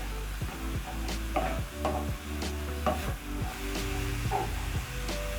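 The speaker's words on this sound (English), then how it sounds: "when cooking cabbage, you have to keep on stirring so that it doesn't overcook" Cabbage for spring roll filling is stirred in a hot pan, with repeated scraping strokes of the utensil over a low steady sizzle, close and moderately quiet, without talk.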